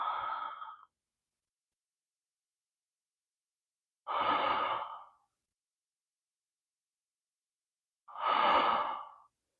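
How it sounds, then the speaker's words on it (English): Three slow, deep breaths during a chair yoga session, each a long airy exhale or inhale of about a second, evenly spaced roughly four seconds apart with silence between. "Using the breath, exhale back, inhale, return."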